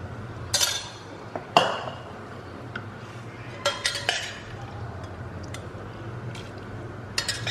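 Cooked black-eyed peas spooned into a pot for Jamaican rice and peas, with a few sharp clinks of metal on the pot and soft wet shuffling in between, close and clear.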